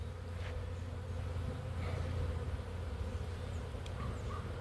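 Honeybees hum steadily at a hive entrance nearby, a dense continuous buzz with occasional individual insects flying close past.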